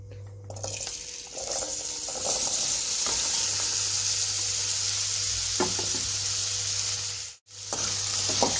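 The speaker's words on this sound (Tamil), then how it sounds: "இப்போ நல்லா கலந்து விட்டு எண்ணெயிலேயே நல்லா வதக்கிக்கலாங்க" Bitter gourd pieces sizzle and fry steadily in sesame oil for a thokku, with a dense continuous crackle and occasional stirring scrapes, broken by one brief dropout near the end.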